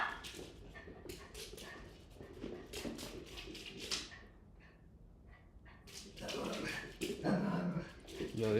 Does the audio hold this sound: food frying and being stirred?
no